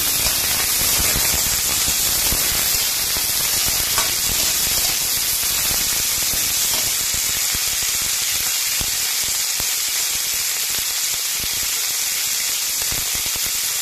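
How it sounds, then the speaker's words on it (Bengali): Yardlong beans fry in a pan, a loud, steady, close hiss that runs unbroken throughout. "তো এখানে আমি বরবটিটাকে ভেজে নিচ্ছি।"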